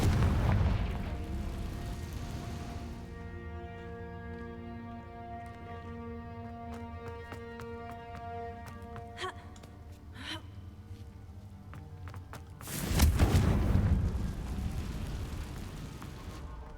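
The Confringo fire-blasting spell in Hogwarts Legacy goes off as a deep booming blast with a rumbling tail. A second heavy burst follows later, over a sustained tonal game music bed.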